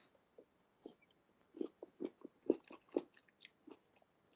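Someone chews mushy pickles close to the microphone, producing soft, wet, irregular bites and squelches with no real crunch, fairly quiet, with no talking.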